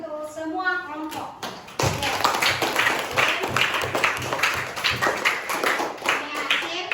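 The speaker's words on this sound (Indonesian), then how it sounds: "Beri aplaus untuk semua kelompok" A classroom at SD Inpres Boronguntia bursts into applause for all the groups. Dense, close clapping from many pupils follows a woman's spoken prompt and continues steadily to the end.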